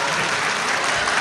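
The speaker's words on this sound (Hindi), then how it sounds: "एक मरतबा तालियां बजाकर मेरा हौसला बढ़ा दे" Steady, dense audience clapping at a mushaira poetry gathering in Amravati, heard on its own as a brief continuous burst with no voices.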